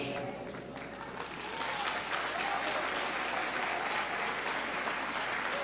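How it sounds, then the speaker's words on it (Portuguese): Men in a church congregation clap steadily in sustained applause during a Sunday service, a dense, even patter that grows slightly louder and fills the whole stretch, with a faint voice underneath. "Eu estou vendo que quem está aplaudindo aqui são os homens"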